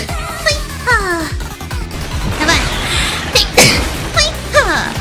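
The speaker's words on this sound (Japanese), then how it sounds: "配信で2回に1回は出るくしゃみ5連発" A rapid series of about five forceful sneezes bursts out close to the microphone, each a sharp explosive burst, with a few brief vocal sounds mixed in between them.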